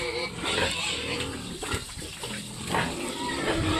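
Fattener pigs on a farm grunt and squeal continuously at close range during feeding with supplemented feed, a dense, noisy pen sound.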